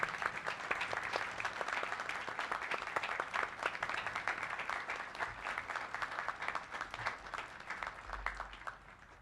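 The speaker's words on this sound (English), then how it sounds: "Ladies and gentlemen, please join me in a round of applause for our award winners." A large audience at a US Army War College graduation ceremony applauds award winners, steady dense clapping that fills the space at moderate level and tapers slightly toward the end.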